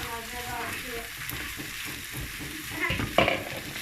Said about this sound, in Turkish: Evet, pirinçlerimizi de ekliyor.